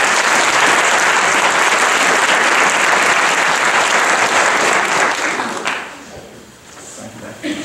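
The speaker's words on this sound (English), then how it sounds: "Let's give her a round of applause." A large audience at a student awards ceremony breaks into loud, dense applause that holds steady for several seconds before fading into scattered claps and murmuring.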